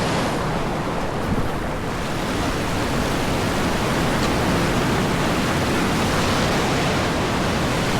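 Sea waves wash and roar around a fishing schooner off Madagascar, a loud, continuous broadband rush mixed with wind buffeting the microphone, with no voices.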